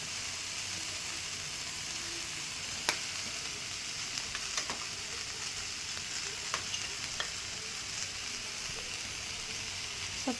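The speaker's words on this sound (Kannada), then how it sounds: "ಸ್ವಲ್ಪ ಫ್ರೈ ಮಾಡ್ಕೋಬೇಕ್ರಿ." Sambar masala, coriander powder and salt fry in a pan with a steady, moderately soft sizzle and a few scattered pops and crackles.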